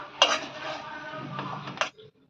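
Flattened rice (poha) stirred in a pan with a metal spoon: a short, close scrape and clink of utensil against metal, a brief shuffling of the dry flakes, then a final knock before quiet.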